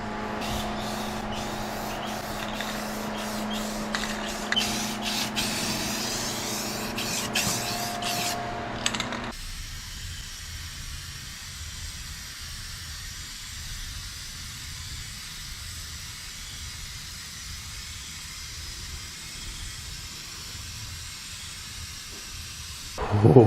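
A spray can lays a light coat of paint over tape on a truck, giving short hissing bursts at first and then one long steady hiss at moderate level.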